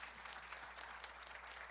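Faint, steady applause from an audience at an economics panel, a short burst of continuous clapping heard at a distance.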